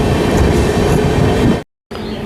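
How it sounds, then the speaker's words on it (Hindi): Onboard the Raigarh–Gondia Jan Shatabdi Express, passing a Gonda diesel shed WAG9 locomotive, the train gives a loud, close, dense rumble of wheels and rushing air, broken by a brief cut to silence. "WAG9 से crossing, Gonda diesel loco shed का"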